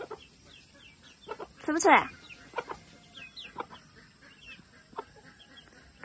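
Young chickens, a small rooster and a hen, cluck in short scattered bursts close by while a person speaks to them once in the middle.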